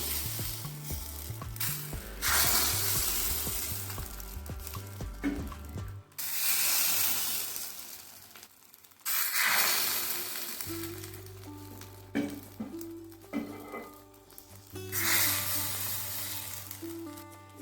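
Chitoi pitha rice cakes fry in a pan with a steady, loud sizzle and hiss, broken by clanks and scraping as the cakes are lifted and more batter is added, close and continuous, with no talking.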